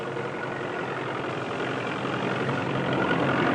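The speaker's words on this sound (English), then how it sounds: "A 4-furrow tractor-drawn plow can plow up 8 acres a day" Tractor engine running steadily while pulling a 4-furrow plow through a field, a continuous heavy drone that holds level and grows slightly louder, with no voices.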